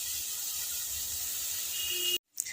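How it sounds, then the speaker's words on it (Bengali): Beetroot fries in a pan with a continuous, even hiss of sizzling, ending in a sudden cutoff and a faint clink. "এবার একটু ভাজতে থাকবো।"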